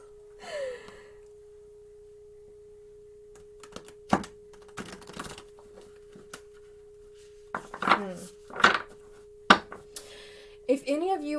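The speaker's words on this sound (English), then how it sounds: "This is a very hard deck to shuffle" Oracle cards from a stiff, hard-to-shuffle deck are shuffled in short bursts of crisp flicks and slaps, separated by quiet pauses, with a faint steady hum underneath.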